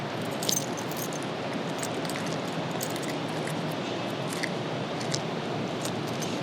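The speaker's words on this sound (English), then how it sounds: "Let me see if I still have the keys." A bunch of keys jangles and clinks in short, light bursts for opening the trunk of a 1966 Mustang, faint and close against a steady background hiss, with no voices.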